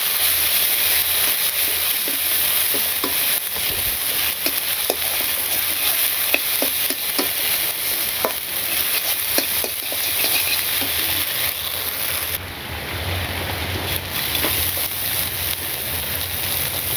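Cumin, ginger, garlic, onion and green chili paste fry in oil in a village kitchen, a steady dense sizzle with scattered crackles and stirring scrapes throughout, close and fairly loud.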